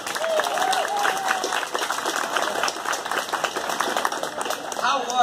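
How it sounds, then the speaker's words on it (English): Audience applauding the LHS jazz band students at a school performance, sustained crowd clapping with a voice speaking over it early on and cheering near the end. "Let's give these folks a round of applause"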